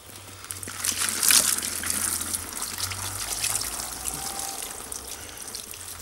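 Water is poured while a rescued mangy dog is being washed, a continuous trickling and gushing stream with a louder splash early on, close and steady, with a low background hum.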